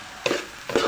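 Bihon rice noodles being tossed and mixed in a hot pan, two brief scraping, sizzling strokes in quick succession.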